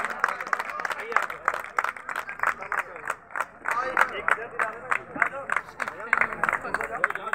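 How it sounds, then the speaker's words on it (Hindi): A crowd at an outdoor cricket prize ceremony claps steadily in a lively, uneven patter for Lucky Sharma, with a few voices murmuring beneath the applause. "जोरदार तालियां लक्की भाई के लिए।"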